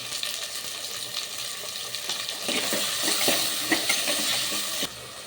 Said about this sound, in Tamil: தக்காளி சீக்கிரமாக வதங்கும்.